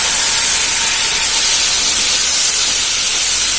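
A loud, steady hiss of water sizzling as it is poured into a hot pan of fried chili powder for onion gravy, continuous and close, with no voices.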